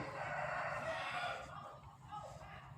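A rooster crows in a drawn-out call that fades toward the end, heard at moderate distance over a noisy background.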